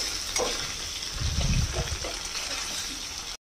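Potatoes fry in a pan for Nepali-style spicy aloo dum, a steady close sizzle with a few soft stirring scrapes and a brief bubbling swell in the middle.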